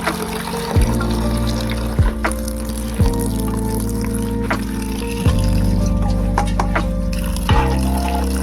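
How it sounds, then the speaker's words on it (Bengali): Water runs steadily from an outdoor tap as leafy greens are washed beneath it, a continuous close splash and trickle with occasional pitch drops and small knocks as the leaves are handled. "আমি শাক ধুলে বাইরের ট্যাপেই আসি"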